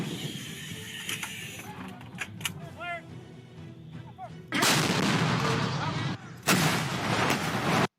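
Heavy booming blasts from 105mm artillery guns firing a six-gun volley, two loud sustained roars in the second half after scattered sharp reports, with talk underneath at the start.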